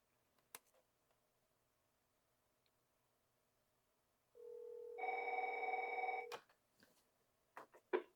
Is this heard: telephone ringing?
yes